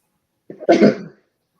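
A single short, sharp sneeze bursts out close by and loud, then stops, with no talk around it.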